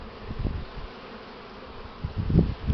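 Honeybees buzzing around a hive in spring, returning with pollen loads; a steady low drone with louder bursts as individual bees pass close to the listener, especially near the start and end.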